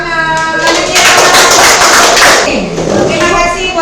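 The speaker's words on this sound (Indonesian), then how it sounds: "Oke, tepuk tangan." Students in a classroom clap together, a loud burst of hand claps and thumps building in the middle and easing off, with children's voices calling out over it.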